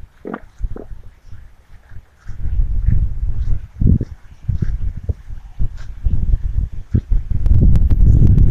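Gusty wind blows across the microphone in an outdoor park with a playground and paddling pool, giving uneven low rumbling bursts that rise and fall, loudest near the end.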